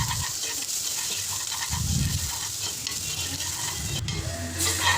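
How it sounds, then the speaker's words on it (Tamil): Ground tomato being stirred into a sautéing fish gravy: steady sizzling and frying with scraping stirring sounds and a brief louder bubbling burst, close and continuous. "வதங்கிட்டு இதில் தக்காளி அரைச்சி வச்சதை ஊற்றி மிக்ஸ் பண்ணிக்கலாம்"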